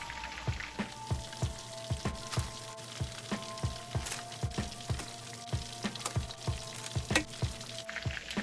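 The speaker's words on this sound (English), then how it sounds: "This is the last batch of the first frying of the chicken." Chicken pieces deep-frying in hot oil during a first fry, a steady soft sizzle with crackly popping bursts at a fairly even rhythm, heard close with no talk.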